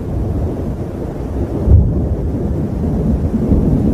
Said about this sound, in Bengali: আরে এ কি, বৃষ্টিতে তো আমি একেবারে ভিজেই যাচ্ছি